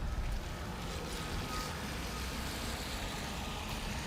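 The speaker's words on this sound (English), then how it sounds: "Yep, you hear a plane." An airplane passing over Bay Ridge, Brooklyn, at night, heard from the street as a steady, loud, broad roar that holds for the whole stretch without breaks.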